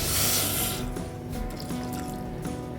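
Water poured into a pot holding jaggery while making amla candy, a continuous liquid splash and trickle heard close and alone over about three seconds.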